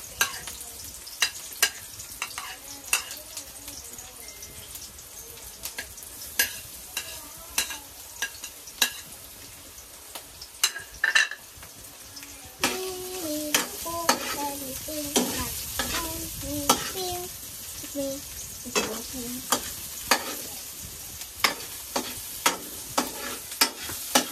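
Garlic sizzles in a hot pan while a spoon or spatula scrapes and stirs it in sharp, repeated strokes throughout, with a steady frying hiss underneath.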